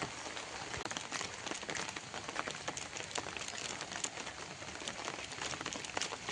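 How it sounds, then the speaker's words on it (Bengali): Steady rain patters on surfaces outdoors, a dense, even spray of drops with scattered closer taps, fairly soft and continuous throughout with no voices. "বৃষ্টি সেই থেকে পড়েই যাচ্ছে"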